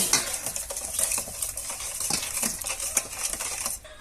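Utensil scraping and tapping in a bowl while seasoning and sugar are mixed for chicken inasal, with quick irregular clinks at close range and no speech.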